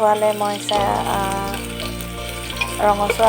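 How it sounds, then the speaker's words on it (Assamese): Onion, ginger and chili sizzle in hot oil in a pan for a khichdi, a loud close crackling fry with stirring, while a musical tone plays underneath. "ইয়াত এতিয়া পিঁয়াজ, আদা আৰু জলকীয়া দি দিলোঁ তেলখিনি গৰম হোৱাত"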